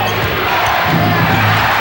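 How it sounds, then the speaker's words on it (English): Basketball arena crowd cheering at a Bulls vs Lakers game in 1992, a loud, dense roar of many voices swelling continuously over the court. "the crowd has come alive"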